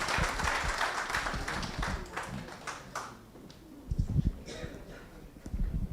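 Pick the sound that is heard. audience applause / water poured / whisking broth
audience applause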